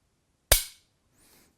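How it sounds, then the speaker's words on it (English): A single sharp metallic click as a rifle trigger is dry-fired and the sear releases, close and isolated, followed by quiet. "I'm going to pull the trigger while watching the sear engagement and see if there's any"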